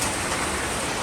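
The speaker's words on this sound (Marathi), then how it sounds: "भरपूर मस्त पाऊस पडतोय." Heavy rain pours down steadily, a dense, even hiss that is loud and close throughout the short stretch, with no voices.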